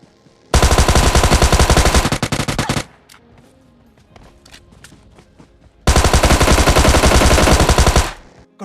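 Loud automatic gunfire from the PUBG Lite video game, two long sustained bursts with scattered single shots and quieter game noise in between.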